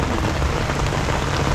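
Heavy rain falling steadily on surfaces outdoors, a dense, loud, unbroken hiss of drops with no pauses.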